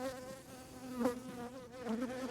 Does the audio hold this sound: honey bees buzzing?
yes